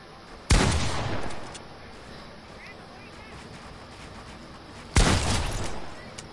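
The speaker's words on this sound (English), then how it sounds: "No, how do you hear my shots?" Gunfire in a video game: two sharp, loud shots about four and a half seconds apart, each with a short ringing tail, over a quiet low hum.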